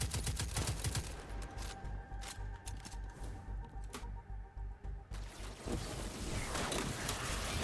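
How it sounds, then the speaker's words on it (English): Explosion of a player's own grenade in the video game Destiny 2, a burst of booming, crackling blasts and rumble, fairly loud, with a quieter gap midway before the noise swells again. "that's what it looks like when you hit yourself with your own grenade"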